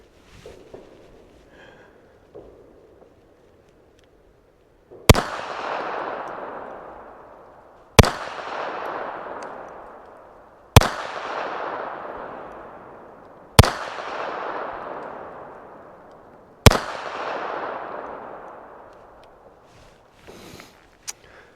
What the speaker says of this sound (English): Shoot top left, and I'm gonna aim much higher and see if I can actually get it into that red square area.